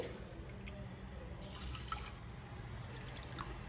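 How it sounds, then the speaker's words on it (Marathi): Faint splashing of water being poured into a pressure cooker pan over rice, in a couple of short bursts over a quiet room background. "1 वाटी तांदूळाला 2 वाट्याला थोडं कमी असं पाणी मिक्स करते"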